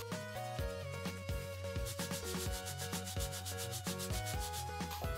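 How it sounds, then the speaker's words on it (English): A brush scrubs rhythmically over the embossed lettering on the plastic back of a dirty Nintendo Game Boy, with steady, close, repeated rubbing strokes and no talk. "It's pretty satisfying to scrub over the embossed writing on the back"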